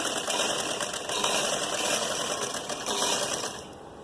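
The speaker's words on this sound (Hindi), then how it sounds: "ये हम फिटिंग की सिलाई लगा रहे हैं।" A sewing machine runs a steady fast stitching whir along a fitting seam on a suit, close and continuous, easing off slightly at the end.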